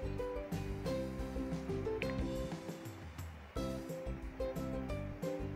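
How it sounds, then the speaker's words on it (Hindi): Water pours steadily into an empty cooking pot, two glasses' worth, with a continuous rushing splash, heard under background music for the whole stretch. "उसमें मैं दो गिलास पानी ऐड कर रही हूँ"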